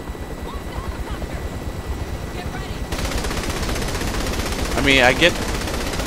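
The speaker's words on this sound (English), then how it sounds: "Whoops, shooting at our own people." Continuous automatic gunfire in the video game Saints Row The Third, a dense rattling stream under a droning hum with a louder burst near the end, while people talk over it.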